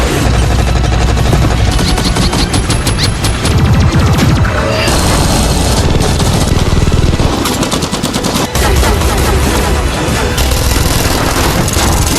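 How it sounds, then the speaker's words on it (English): Heavy sustained gunfire from attacking drones in an alien-invasion battle scene, a dense loud barrage of rapid shots mixed with crashes and booms that hardly lets up throughout. "无人机开火。"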